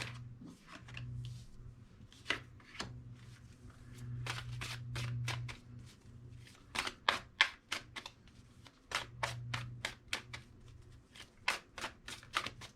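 Tarot cards shuffled by hand for a reading, a run of crisp riffling bursts and sharp slaps in quick clusters, close and fairly quiet, with a low steady hum underneath and no talk.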